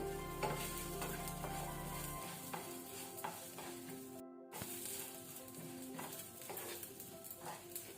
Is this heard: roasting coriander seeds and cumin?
yes